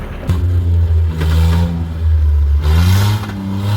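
A Jeep Wrangler off-roader's engine revs hard while climbing a steep hill, its loud, close drone rising in pitch, easing off briefly and then surging again.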